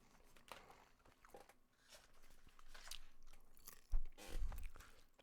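Someone bites into and chews a Big Mac at close range, faint soft crunches and wet chewing with light wrapper crinkles, growing louder toward a firmer bite near the end.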